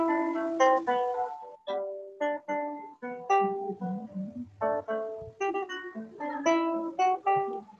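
Guitar and flute heard together in a classroom listening exercise, a melodic line of distinct plucked and blown notes in a steady rhythm, clear and alone without talk.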